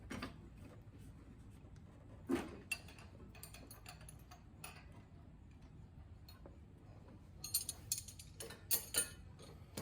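A 19 mm wrench breaks a nut loose while a 17 mm holds the top. Faint scattered metallic clicks and ratchet-like ticks sound in a quiet space, with a few sharper knocks toward the end.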